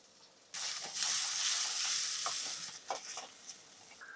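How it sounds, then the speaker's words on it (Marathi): Chopped onion sautés in a pan for dal, with a loud, steady sizzle that starts abruptly, along with a few scraping stirs near the end. "आपला कांदा चांगला परतला गेलाय"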